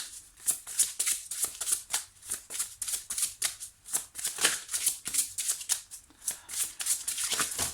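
Tarot cards being shuffled by hand in close-up, a continuous crisp riffling and flapping with soft rhythmic bursts and no talking.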